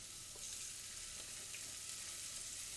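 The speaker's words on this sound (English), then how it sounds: "Ah, the sizzle." Food sizzles steadily in a frying pan during a home cooking session, a continuous hissing crackle with occasional pops, close and even throughout, with no talking.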